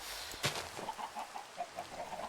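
Soft, repeated clucking from a few Minecraft chickens over a hissy background, with one brief sharper burst near the start, after rain in the game.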